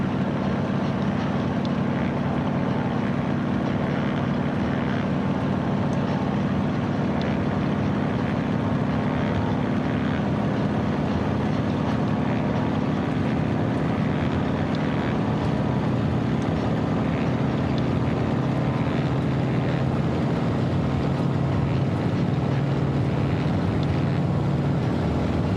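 A steady, loud droning engine roar holds for the whole stretch as a small aircraft throttles up in Microsoft Flight Simulator, with no voices over it.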